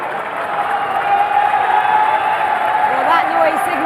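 Live crowd at a FIFAe Club World Cup esports match rising in a swelling roar of cheering and applause, loud and continuous, with commentators talking over it.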